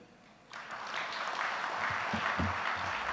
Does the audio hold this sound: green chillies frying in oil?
no